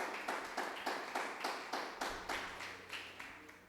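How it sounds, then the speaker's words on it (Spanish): A church congregation claps in rhythm, a moderately loud, steady, evenly spaced series of group claps at about two per second, with no talking over it. "Dale un aplauso al Señor."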